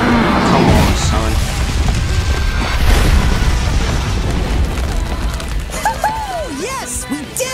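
Loud booming fire-attack explosion from Charizard's Blast Burn in an animated Pokémon-versus-Digimon battle against WarGreymon, a dense rumbling blast sustained for several seconds with crashing bursts, mixed with excited voices reacting over it.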